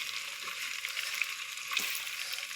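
Tempering spices crackle in hot oil for homemade chevdo, a steady bright sizzle with a few faint stirs, close and continuous.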